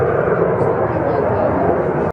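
Display team jets roaring overhead during a mirror pass at an air show, a loud, steady broadband engine rush filling the whole moment with no break.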